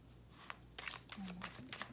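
Tarot cards being shuffled for a reading, a run of quick soft riffling flicks in short bursts, close and quiet, with a voice murmuring briefly underneath.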